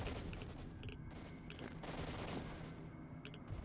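Gunfire in the video game STALKER, bullets striking a chain link fence, heard as a continuous dense rattle of shots with metallic pings scattered through it, fairly faint and steady for several seconds.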